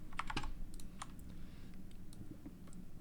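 Someone types a short phrase on a computer keyboard, a close run of quick, light clicking keystrokes with brief pauses between bursts and no talking.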